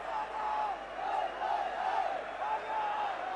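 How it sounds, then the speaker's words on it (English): A stadium crowd at a 1984 Wales v France rugby match sings to lift the Welsh team, a sustained, swelling chant of many voices rising and falling steadily without pause. "Crowd sing to try and lift the Welsh team"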